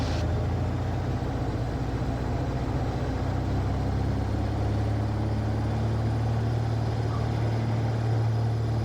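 A Van's RV-9A airplane on its takeoff roll makes a loud, steady engine and propeller drone with rumbling wind and runway noise, its pitch rising slightly as it gathers speed.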